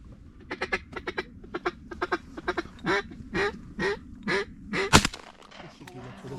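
Ducks quacking at a duck hunt, a run of quick close quacks giving way to longer, louder calls, then a sharp burst near the end.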